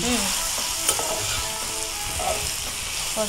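A spoon stirs chicken curry masala with coriander and ground coriander in a sizzling pan, steady scraping and frying sounds close up with no talking.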